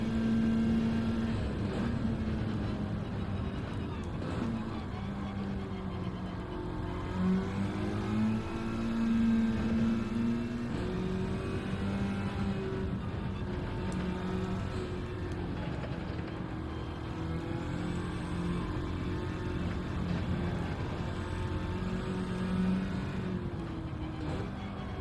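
A front-wheel-drive race car laps Suzuka in a racing video game. Its engine drones continuously and loudly, with the pitch rising and falling through gear changes and corners.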